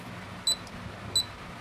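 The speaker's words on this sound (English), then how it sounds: "And we've got 3 beeps there." La Gard 39E safe lock keypad giving two short, high electronic beeps about 0.7 seconds apart, clear over a faint background hum.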